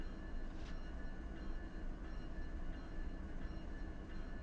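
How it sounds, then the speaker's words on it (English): A train rolls away from a rail yard in the Run 8 railroad simulator game, giving a steady low rumble with faint rhythmic clicks of the wheels, continuous and moderately distant, with no talk. "there goes that train departing from the crew chain"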